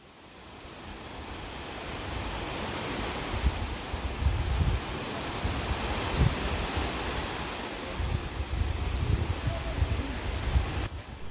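Water sloshing and surging inside a bucket, made to mimic the surge in a dam shaft, gives a steady rushing wash with heavier pulses swelling and falling, close and moderately loud, with no voices.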